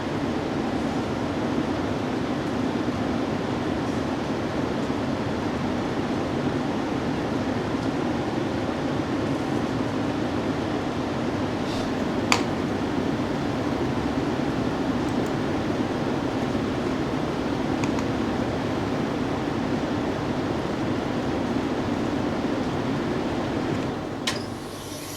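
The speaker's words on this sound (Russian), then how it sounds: "Слышно, что выключились вентиляторы испарителя. Компрессор продолжает работать." An air-to-water heat pump outdoor unit keeps its compressor running while the evaporator fans stay off, giving a steady broadband hum and hiss with a few faint clicks and no talk.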